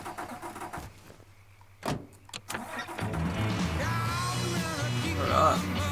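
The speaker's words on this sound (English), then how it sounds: "Get in the armored truck." An armored truck engine in the video game Mafia 3 starts up and then runs steadily and loudly, preceded by a few sharp thumps like a door closing.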